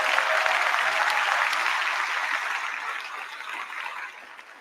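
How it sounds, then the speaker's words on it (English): Audience applause for clinic participants at a send-off show, a dense sustained wash of many hands clapping that slowly fades over several seconds. "So I want to give these guys a round of applause for attempting the clinic today."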